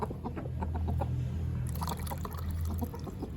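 Water pours and trickles steadily, close by, while chickens cluck faintly in the background.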